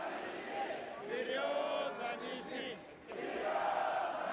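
Basketball players from Nizhny Novgorod chant a team cheer together after a win, a loud rhythmic group shout with a crowd murmuring behind it and a short dip near the end.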